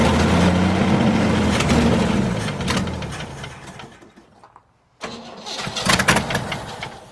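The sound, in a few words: 1967 Chevy C50 farm truck engine revving up and down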